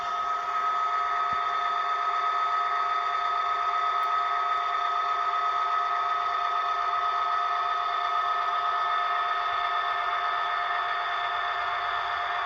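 Soundtraxx Tsunami 2 sound decoder playing a diesel locomotive at notch 4 with the brake applied, a steady sustained electronic engine drone with a bright whine, even and unbroken throughout.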